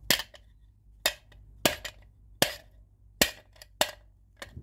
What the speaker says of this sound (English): I should be using a steel hammer for this.